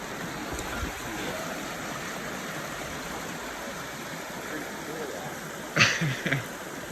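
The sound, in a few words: flowing mountain stream water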